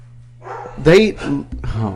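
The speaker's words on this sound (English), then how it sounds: "Bella's barking at something while Mama's sleeping." A dog gives a few sharp barks close by, loud and separated by short pauses, over a low steady hum.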